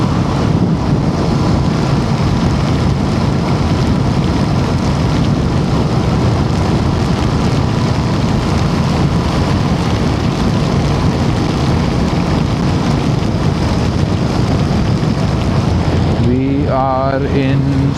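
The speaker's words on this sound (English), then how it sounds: "So again it's raining a lot" Heavy rain pours during a dark night motorcycle ride on a coastal Karnataka road, a loud, unbroken hiss of rain and wind buffeting that lasts throughout, with a brief rising tone near the end.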